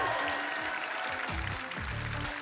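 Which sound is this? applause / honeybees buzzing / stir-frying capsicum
applause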